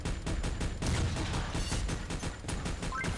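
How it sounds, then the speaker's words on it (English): Proton Freezer weapon firing in Pixel Gun 3D, a fast continuous stream of rapid-fire shots pulsing evenly throughout, loud and up close with no talking. "the good thing about this weapon is you're able to fire a lot of bullets"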